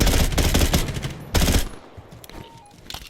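Gunfire in the video game Black Ops 6: a loud, rapid burst of automatic fire, a heavy blast-like volley about halfway through, then quieter scattered shots and faint game sounds trailing off.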